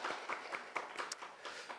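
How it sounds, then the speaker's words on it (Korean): Faint, sparse hand clapping welcoming guests during a Korean Sunday church service, scattered claps in a quiet room with no talk. "우리 한번 박수로 환영하겠습니다."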